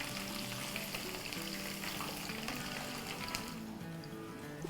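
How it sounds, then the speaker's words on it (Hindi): Bottle gourd (lauki) kebabs fry lightly in oil in a pan, a steady, close sizzle that holds level throughout, with faint stirring, no talking. "बस हल्का सा ही हमें इसको फ्राई करना है।"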